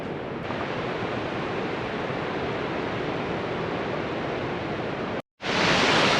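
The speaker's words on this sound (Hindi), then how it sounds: "One more waterfall on the way. बहुत सारे वाटरफॉल है, ये भी एक और वाटरफॉल है।" A waterfall along the Kedarnath trekking route in the cold Himalayan mountains roars as a steady, dense rush of falling water, loud and close, briefly cutting out near the end before resuming.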